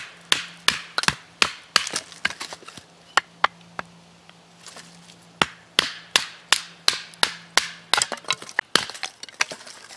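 A Deer Creek Forge Kephart knife is batoned through poplar wood. Sharp, close wooden whacks come in quick irregular bursts over about twenty strikes, with brief pauses between some of them.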